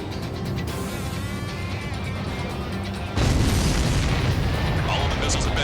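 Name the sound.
missiles exploding in Ace Combat 7 video game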